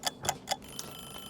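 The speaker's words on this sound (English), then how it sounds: "my timer just went off" A kitchen timer goes off while baking a Chinese dessert, three quick sharp ticking beeps in a row then a fainter fourth, close and clear in a quiet kitchen.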